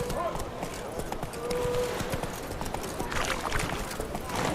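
Roach the horse galloping in The Witcher 3, a steady rhythmic clip-clop of hooves running under ongoing game noise, with someone talking over it.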